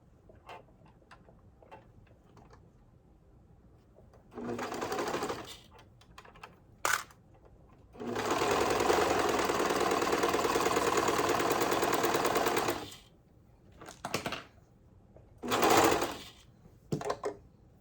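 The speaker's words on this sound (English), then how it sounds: "I will just serge this the same way that I serged the other parts." A serger sewing machine runs in bursts while serging fabric, a loud steady whirring stitch lasting several seconds in the middle, with shorter runs and quiet gaps around it.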